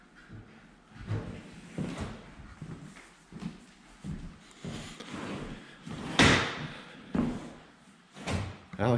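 Intermittent knocks, thumps and rattles of a screen door being repaired, irregular and close, with one louder bang midway.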